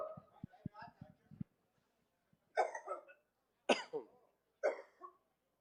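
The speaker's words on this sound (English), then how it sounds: "That bacon went down the wrong pipe." Several harsh coughs from someone choking on food, in separate bursts after a short rumbling sputter, close and fairly loud, with quiet gaps between.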